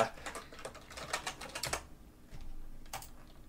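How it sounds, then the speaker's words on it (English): Quick, clattering keystrokes on a computer keyboard, a dense run of taps followed by a pause and a couple of isolated clicks, close and moderately loud with no voices. "Oops, you're not doing your WASD. You're typing."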